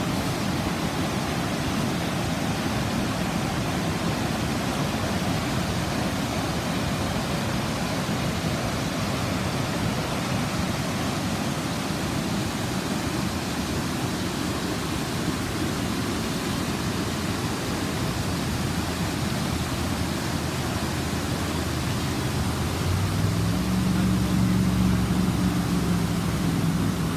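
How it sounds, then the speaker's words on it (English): Steady rushing roar of the waterfall at Furnace Falls, a constant broadband wash of falling water heard close and unchanging throughout, with no voices. "I love the waterfall."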